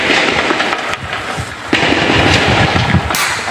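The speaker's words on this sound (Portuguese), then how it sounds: "os barulhos de tiros também" Gunfire rings out at night during an armed bank robbery in central Atibaia, São Paulo, a few sharp cracks spaced apart over rough, noisy background.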